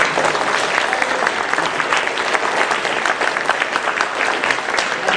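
An audience claps steadily at a robotics event, dense and even applause filling the room from start to finish with no voices on top.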